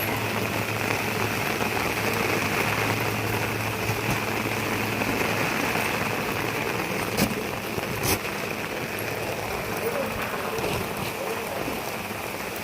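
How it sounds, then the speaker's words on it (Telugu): Steady, dense hiss of heavy thunderstorm rain falling without letup in a village, with a low engine-like hum underneath and a couple of faint knocks. "చూడండి ఇంకా ఆ విధంగా అయితే వర్షం పడుతుంది"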